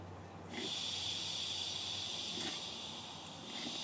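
Compressed air hissing steadily into a converted fire extinguisher tank, a continuous high airy hiss that starts abruptly and holds at an even, moderate level.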